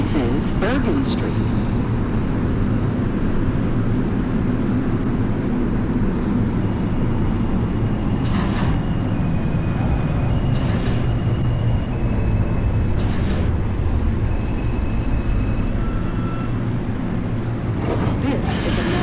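An NYC subway R142 train on the 2 line running in the OpenBVE train simulator: a steady rumbling, rattling rail drone throughout, with a few brief high-pitched squeals or beeps.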